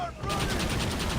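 Rapid gunfire from a Gatling gun in the video game Red Dead Redemption, sounding as a continuous rattling burst with a short pause near the start, while a voice speaks over it.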